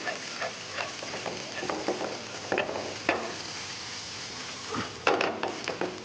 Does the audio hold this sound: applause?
no